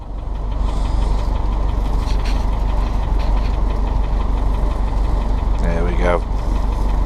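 Cold engine of a bug out vehicle idling right after starting in the woods, a loud, steady low rumble close by, with a brief voice over it near the end.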